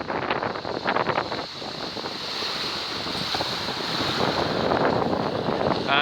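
Strong, gusty wind roars across Bognor Regis beach and buffets the microphone, while surf rushes underneath in a continuous, swelling wash with no voices.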